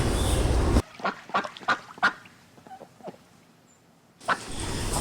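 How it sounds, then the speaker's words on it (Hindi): A flock of ducks at Delhi Zoo's duck park quacks in several short, fairly close calls spaced irregularly, with a brief quiet stretch before steady outdoor noise returns. "और ये देखिए बतखों का प्यारा सा झुंड"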